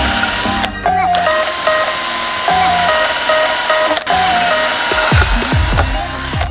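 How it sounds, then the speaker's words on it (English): A power drill works loudly and continuously during a rear disc brake swap on a Honda Civic. Its whining motor steps up and down in pitch, with short sharp bursts near the end. "we resume the drilling."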